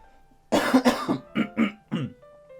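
A burst of harsh coughs from a person with the flu, about six in a row, loud and close, with silence before and after.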